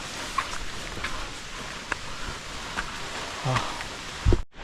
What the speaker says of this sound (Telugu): మళ్ళీ వర్షం పడుతుంది